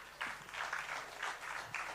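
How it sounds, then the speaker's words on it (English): Audience applause at an East African music summit: steady, fairly faint clapping from a crowd that rises and falls across a couple of seconds, with no voices over it. "You can clap, please."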